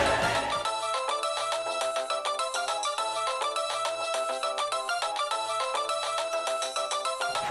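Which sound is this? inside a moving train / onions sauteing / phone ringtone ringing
phone ringtone ringing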